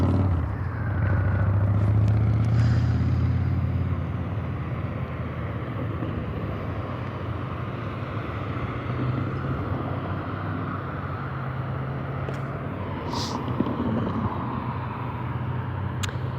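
Several cars drive past one after another on a road, a steady low rumble of engines and tires with wind noise, loudest near the start and continuing at a fairly even level.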